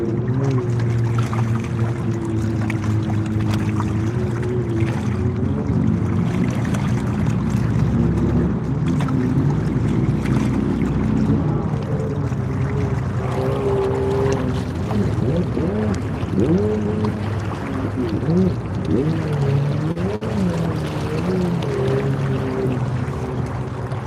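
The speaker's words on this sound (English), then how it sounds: "The sound of waves makes it funnier." Waves lap around a fishing boat on a catfishing outing, a steady low sloshing wash with a constant hum and light wind noise, close and continuous throughout.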